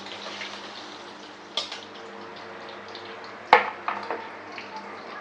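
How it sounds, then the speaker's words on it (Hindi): Pointed gourd (parwal) fries in a pan with a soft, steady sizzle and hum, punctuated by a couple of sharp metallic clinks of a utensil against the pan. "ये परमल फ्राई हुई है"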